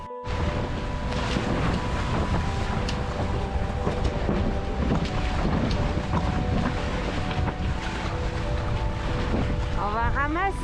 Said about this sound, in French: Je vais allumer un moteur par sécurité.